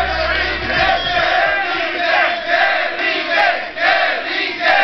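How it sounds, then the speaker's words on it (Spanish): An audience on a television talk show cheers and applauds, a loud swelling crowd roar with rising and falling waves of clapping and shouting, with no speech over it. "Un aplauso para Victoria, que venga adelante."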